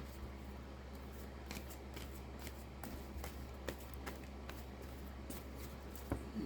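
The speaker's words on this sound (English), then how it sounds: "Shuffle." Soft papery flicks and light clicks of tarot cards being shuffled, scattered through a few seconds over a low steady hum, close and quiet.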